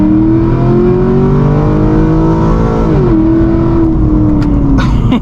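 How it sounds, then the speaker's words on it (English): Pontiac G8 with a 430-horsepower LS3 V8, switched into sport mode and pulled hard: a loud, steady engine drone climbs in pitch, dips briefly at a gear change, then rises again, heard from inside the car with no talk. "I'm gonna slap it over into sport and give you guys a nice little pull right here."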